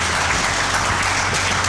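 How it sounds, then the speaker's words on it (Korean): Studio audience clapping to welcome a guest expert, the Korea Leukemia Patients' Association secretary general, onto a televised health-policy talk concert panel; dense, steady applause throughout, close and fairly loud, with no speech. "박수 부탁드립니다."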